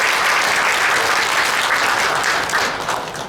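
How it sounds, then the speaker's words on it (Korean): A seminar audience at a 2025 forum in a Pohang youth culture center breaks into sustained, dense applause for a presenter, loud and close at first and tapering slightly toward the end, with no speech over it. "잠깐 박수 한번 부탁드리겠습니다"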